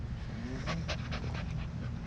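Dog panting steadily in rapid rhythmic breaths, close by, over a low rumbling background.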